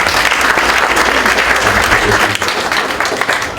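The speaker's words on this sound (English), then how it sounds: "Another round of applause for the brothers." Audience applause at an award ceremony, a dense, steady clapping from a crowd filling the room at close range for several seconds.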